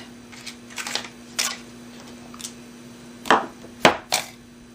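Rubber stamps pressed onto cardstock to print tree images for die cutting, a handful of sharp, close taps and thumps spaced irregularly over a quiet room with a faint steady hum.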